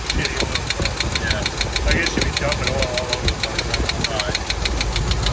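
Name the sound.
engine of a Forest Service K30 truck running with valves moving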